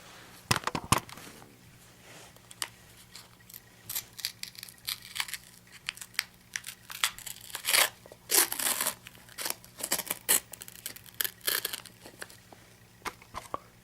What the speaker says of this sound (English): So that's how I suggest to unwrap.